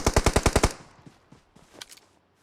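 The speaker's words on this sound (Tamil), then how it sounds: "பின்னாடி ஒருத்தன் சுட்டான்." Rapid automatic gunfire in BGMI on the Sanhok map, a loud burst of about seven evenly spaced shots, followed by fainter scattered shots and clatter in the distance.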